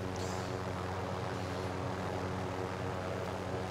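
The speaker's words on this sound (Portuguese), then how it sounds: "Helicóptero do meu lado." A helicopter flies nearby in Call of Duty Warzone, a steady low rotor and engine drone holding constant throughout without talking.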